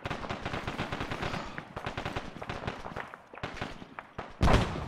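Rapid machine-gun and rifle fire in the Arma 3 military shooter, dense overlapping bursts close by throughout, ending in a louder nearby volley.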